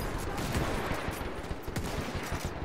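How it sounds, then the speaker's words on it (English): Gunfire and artillery barrages from a Mount & Blade Warband battle in the Parabellum mod, a dense, noisy rumble of overlapping shots and crackling volleys at a moderate distance, steady for a few seconds with no talk. "Let's throw some artillery at them."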